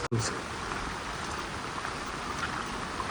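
Rain falling steadily in a green Konkan village, a broad close hiss of drops that begins after a brief knock and continues evenly without voices.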